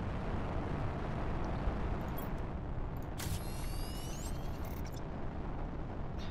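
A rocket launches in the Planet Crafter video game, heard as a continuous loud roaring rumble, with a brief higher whooshing sweep partway through.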